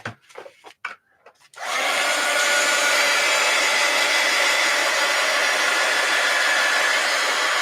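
A hair dryer blasts a layer of Elmer's glue resist on a painting, starting abruptly after a few soft handling noises and then holding a steady, loud, close whoosh until the end.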